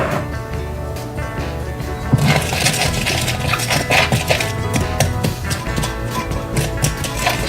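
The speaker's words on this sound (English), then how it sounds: "So let me stir the spices" A spoon clinks and scrapes against a bowl while fiesta-style taco spices are stirred for beef jerky, a steady rapid rattling that grows louder and busier partway through.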